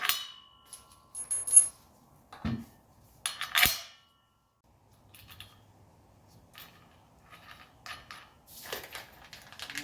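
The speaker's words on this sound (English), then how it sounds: "Hammer." Sharp metallic clangs ring out now and then as a hammer strikes metal during driveshaft work on a 1985 300D car, a few heavy strikes standing out among quieter clinks and shuffling, no talking.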